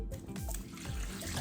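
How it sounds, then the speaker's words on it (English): Tap water runs in a steady, faint trickle while fresh zucchini are washed at a kitchen sink, continuous throughout with no voices. "We need to wash the zucchini well."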